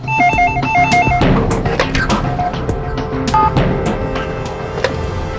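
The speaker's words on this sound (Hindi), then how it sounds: "तो भी फोन उठाओ" A telephone rings with a repeating electronic trill in short bursts for about a second, then scattered clicks, knocks and clattering movement follow in a room.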